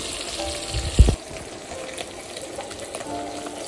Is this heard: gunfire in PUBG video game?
no